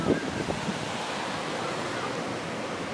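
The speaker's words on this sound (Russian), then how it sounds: "сегодня волны вообще просто безумные" Ocean waves breaking on a Florida beach, a loud continuous wash of surf mixed with wind noise on the microphone.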